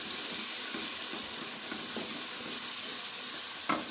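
Food roasts in a pan with a continuous close sizzling hiss, broken by a few soft stirring scrapes and a brief clink near the end, without any voices.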